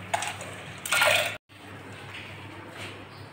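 Washed lentils tip into water inside a pressure cooker, two short rattling, splashing pours, the second louder and longer, followed by a sudden cut and quiet kitchen background.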